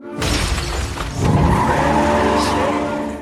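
A luxury car in an action film pulls away hard, its engine surging loud and close with tire squeal and a sharp skid, building after a second into a sustained roar under dramatic film sound.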